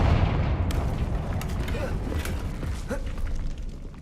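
Confringo fire-blast spell cast in a Harry Potter video game on hard mode, a dense stretch of game audio with rumbling booms, mechanical creaks and short bursts that stays loud throughout.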